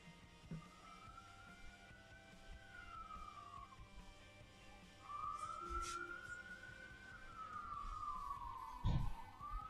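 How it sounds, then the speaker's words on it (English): A siren wails in rising and falling sweeps, fairly loud and close, with a brief low thump near the end over background rumble. "There's just a loud ambulance noise."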